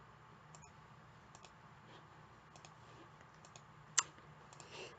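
A few sparse computer mouse clicks while working in Photoshop, soft and close, with one sharper click standing out near the end over a quiet room hiss.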